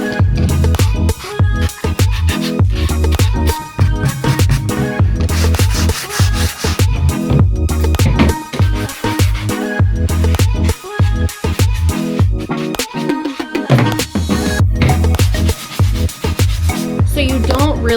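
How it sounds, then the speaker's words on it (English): Pieces of a vintage wooden frame being sanded by hand, a loud, continuous rubbing scratch with repeated back-and-forth strokes filling the whole stretch. "We've got our frame pieces. Let's sand them."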